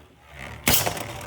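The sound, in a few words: Beyblade Achilles launched with a launcher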